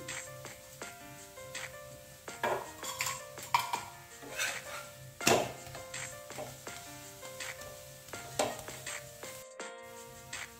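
Oil is brushed onto a mixed-vegetable thalipeeth roasting on a pan, with a soft sizzle under clinks and taps of utensils against the pan, close and intermittent, and no voices.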